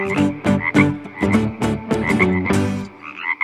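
A toad croaks beside a lagoon in a rapid series of loud, close, throaty calls with short gaps between them, a brief pause, then a few softer croaks at the end.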